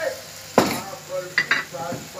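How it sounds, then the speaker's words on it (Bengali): A turmeric and salt spice masala for a potato and pointed gourd curry fries in a pan, with a faint sizzle under a few sharp scrapes and clinks of a spoon stirring against the pan. "মশলাটা খুব সুন্দর করে কষিয়ে নেব"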